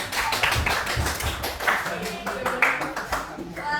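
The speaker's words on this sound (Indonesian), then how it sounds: "Oke, tepuk tangan semuanya." A group of people clap hands together at a classroom academic supervision session, the claps scattered and uneven over steady background chatter, with voices talking throughout.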